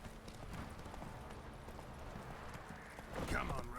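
Horse hooves gallop in a video game, a steady, fast clip-clop running the whole time with a voice talking over it and a louder flurry near the end.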